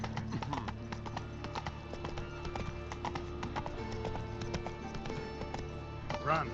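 In The Witcher 3 video game, the horse gallops with steady, rapid clip-clop hoofbeats running throughout under a faint, low game soundscape, with a brief louder rustle near the end.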